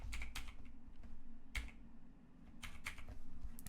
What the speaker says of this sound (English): Oh, let's try typing it in.